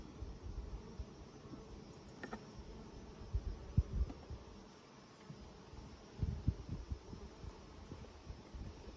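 Honeybees crawl and buzz on a dark three-year-old brood frame lifted from a nuc colony, a faint, soft insect hum with light rustles and a few small knocks nearby.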